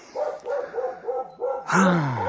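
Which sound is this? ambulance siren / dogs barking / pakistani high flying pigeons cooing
dogs barking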